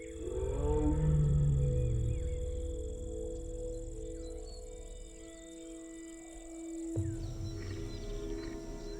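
A tiger gives a deep, low rumbling call up close, then it fades into a quieter hum of insects and jungle ambience.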